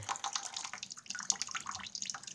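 Water trickles and drips steadily through an aquarium siphon tube into a container for a neon tetra tank, producing a close, continuous splashing patter with no talking.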